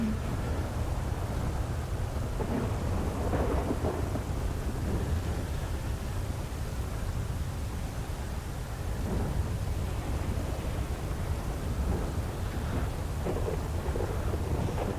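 A steady thunderstorm in a roleplay video game, with constant heavy rain hiss and low rumbling thunder that swells several times over the span, all at an even, moderate level and no voices.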